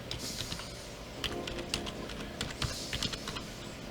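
Brisk typing on a computer keyboard, close and clear, with rapid uneven clicks and a few heavier key strikes, no voices.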